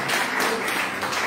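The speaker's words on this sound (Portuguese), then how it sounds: "As palmas ao Senhor Jesus" Applause from a church congregation during a worship service, a brief burst of dense clapping heard at moderate loudness.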